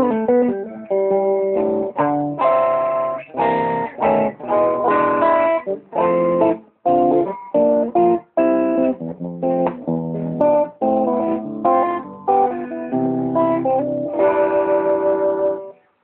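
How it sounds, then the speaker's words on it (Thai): Neck pickup of a 1989 Fender electric guitar, played clean in a busy run of ringing notes and chords, loud and close, continuing alone without talk for about sixteen seconds. "นี่คือเสียงเน็กนะครับผม"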